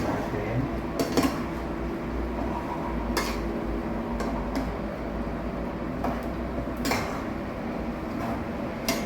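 A spoon clinks and scrapes against a pot while sugar is stirred into chicken feet adobo, with several sharp metallic knocks over a low simmering background.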